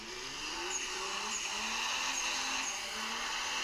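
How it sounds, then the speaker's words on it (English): A car in the DR!FT Racer video game slides through a foot-brake drift: a steady engine drone with drawn-out, wavering tire squeal layered over it throughout. "let's see if we can initiate a drift with a foot brake."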